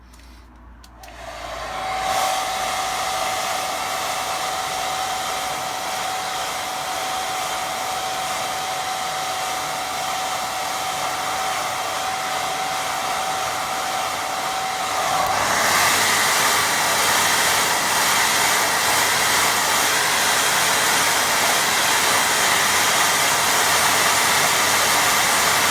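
A hair dryer blows steadily on a watercolour painting of distant sheep, a loud continuous whoosh with a thin whine that runs alone for about 25 seconds, shifting to a brighter, slightly louder airflow partway through.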